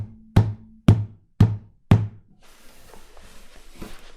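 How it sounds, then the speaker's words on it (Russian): Hand knocking on the body of an acoustic guitar as a percussive bass-drum technique: four evenly spaced, loud, resonant thumps, followed by softer rustling and faint taps. "Мы стучим вот этой частью руки примерно вот в это место гитары."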